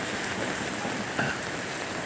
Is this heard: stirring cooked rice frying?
no